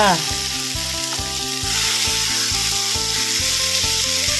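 Pork belly sizzles steadily in hot oil and red curry paste for a Thai stir-fry with morning glory, a dense continuous crackle over background music, with no talking.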